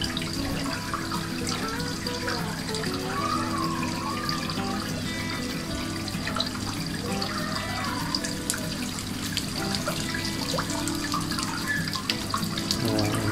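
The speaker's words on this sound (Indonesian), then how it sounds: "kita siram" Water poured onto aroid potting mix, a steady running, trickling pour close by that continues for the whole stretch, with faint scattered drips on top and no talking.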